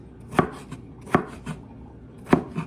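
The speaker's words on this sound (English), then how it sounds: "And then just cut them into small strips and julienne style." A knife cuts fish into small julienne strips for ceviche with a few crisp, close chops against a cutting board. The strokes come in an uneven rhythm, three strong ones with fainter taps between them, and no talking.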